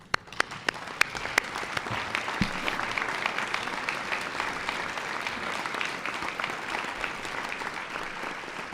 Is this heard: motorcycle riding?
no